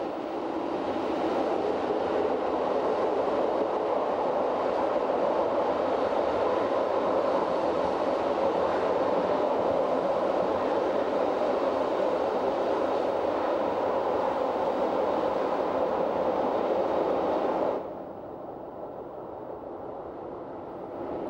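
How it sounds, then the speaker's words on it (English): A Rhaetian Railway train on the Engadine line in the Swiss mountains rumbles steadily along the rails while descending toward Scuol-Tarasp, with a continuous loud roar, then the noise drops abruptly near the end to a quieter hum. "as the train makes a gradual descent towards Scuol-Tarasp"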